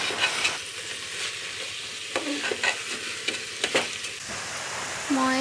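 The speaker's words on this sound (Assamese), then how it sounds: "এতিয়া চাউল দালিখিনি ভাজি আছে।" Rice and lentils frying in a pan for khichdi, a steady sizzle broken by repeated scraping and clattering stirs, with a couple of brief metallic rings.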